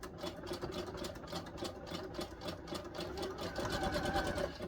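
Sewing machine stitching elastic onto wrestling tights, a fast, steady rattling hum of the needle running continuously at close range over bulky seams.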